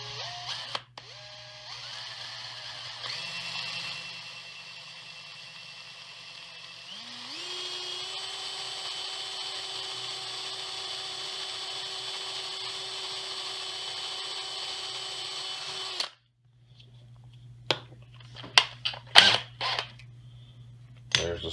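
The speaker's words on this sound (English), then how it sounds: "I'm actually going to start with the smaller drill bit this time" A power drill with a small bit whirs steadily, shifting pitch as it speeds up, then stops; clicks and handling knocks follow near the end.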